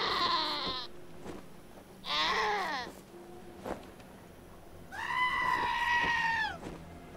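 A goat in the video game Wasteland 2 bleats three times, each cry a wavering, nasal call of about a second, separated by quiet gaps with faint background ticks.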